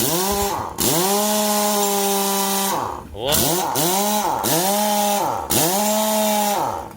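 A CSI CS-50GL air impact wrench, spinning freely with no load, whines up to high speed in repeated bursts with short pauses between, loud and close, pitch rising and falling with each trigger pull.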